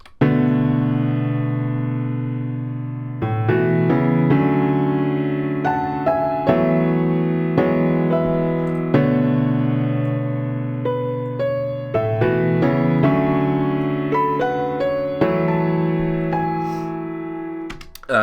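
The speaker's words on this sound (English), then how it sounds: "the one without the velocity editing sounds like this" A piano chord progression plays with every note struck at the same flat intensity, giving a harsh, stabby feel. The chords change in regular blocks and are heard alone, with no voices.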